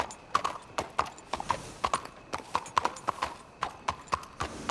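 Hooves of a walking horse in the video game Red Dead Redemption 2: a clear, steady clip-clop of hoofbeats, moderately close and evenly paced, continuing throughout without talk.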